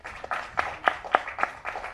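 A small audience claps at a trailer launch event, a sparse, uneven patter of a few hands in a room, fairly faint and brief.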